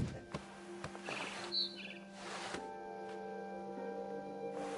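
A barn swallow in the video game What Remains of Edith Finch chirps in a few short, bright calls over a quiet indoor ambience, with soft clicks and thumps around them.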